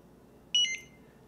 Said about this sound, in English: Continue to hold that function button for another 5 to 10 seconds until it beeps again and resets.